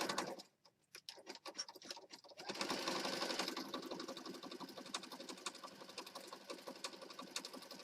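A sewing machine stitches around the outside edge of a handmade Christmas mini journal, with a few short starts and stops before it settles into a steady, fast, close mechanical whir.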